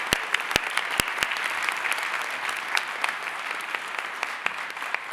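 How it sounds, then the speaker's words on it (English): Audience applause following a plenary talk at a conference, a steady patter of clapping from a moderately sized room, punctuated by several sharp, close individual claps near the start. "Let's give Will one more round of applause."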